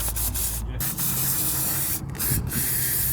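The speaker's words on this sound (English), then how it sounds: "So to get this thing clean, we're going to use a bunch of brake cleaner." Brake cleaner sprays onto a B16A engine from an EK Civic swap, with a continuous close aerosol hiss broken by short pauses between bursts.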